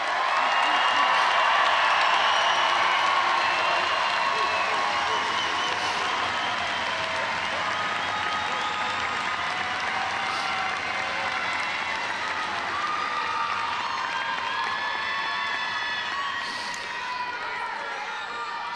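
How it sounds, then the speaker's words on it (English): The crowd at a Class of 2025 high school graduation ceremony applauds and cheers its graduates, a loud, sustained roar of clapping with scattered shouts that fades slightly toward the end. "Let's give our graduates a round of applause."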